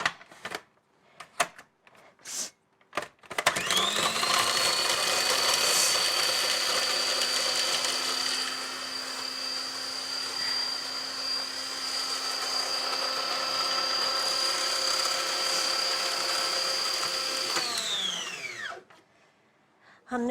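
A blender grinds four green chillies, starting up and then holding a steady high-pitched whir for about fourteen seconds before spinning down, loud and alone after a few brief clatters.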